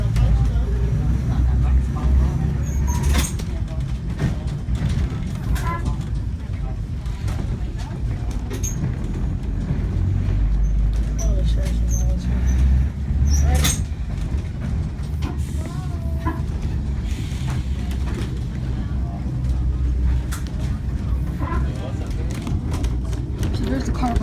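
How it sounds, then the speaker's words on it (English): A 1906 John Stephenson Company bowling alley trolley car, Connecticut car 1160, rumbles and rattles steadily while riding at a trolley museum, with voices talking over the continuous low clatter. "today we're riding Connecticut car 1160 built by the John Stephenson Company of Elizabeth, New Jersey in 1906"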